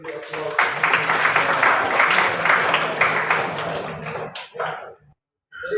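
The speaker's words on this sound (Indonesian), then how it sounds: "mari kita beri aplaus" An audience applauds in a classroom-style coaching session, steady dense clapping for about four seconds before it trails off into a brief silence and a faint return of sound.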